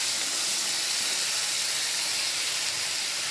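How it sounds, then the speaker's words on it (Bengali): Potatoes fry in a wok until browned, giving a steady, even hiss of hot oil that holds constant throughout with no voices. "এইবার আমি কড়াইতে আলুগুলো দিয়ে আলুগুলোকে ওরকম লাল লাল করে ভেজে নিতে হচ্ছে।"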